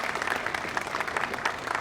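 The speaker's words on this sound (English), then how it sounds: "Give her a big round of applause." A brief burst of audience applause at a Memorial Day remembrance ceremony, steady and moderately quiet, dense clapping with no voices over it.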